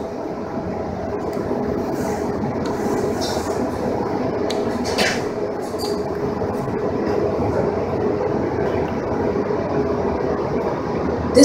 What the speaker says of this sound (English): This train is departing for Oakland International Airport.